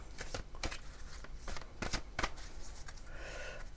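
Two decks of tarot cards being shuffled by hand: a run of close, crisp riffling bursts and soft paper flutters in quick irregular rhythm, with no voices.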